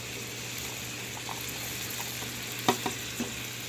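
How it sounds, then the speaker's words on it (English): Vegetables sauté in hot oil with a low, steady sizzle, broken near the end by a few sharp clinks and taps of a utensil against the pan. "We're going to be sauteing these a few minutes"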